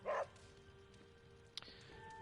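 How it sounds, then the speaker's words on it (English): A single dog barks in the video game Marvel's Midnight Suns: one loud, close yap at the very start, then quiet background ambience with a faint click near the end. "My dog!"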